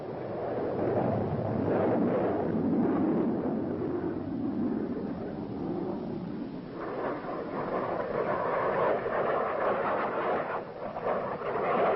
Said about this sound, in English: Aircraft take off to deliver the sensors to the selected locations.